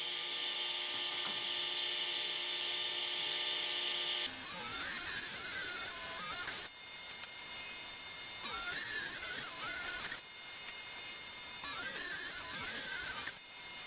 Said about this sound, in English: I'm going to rip 2 strips off of this piece of plywood at 3 5/8 wide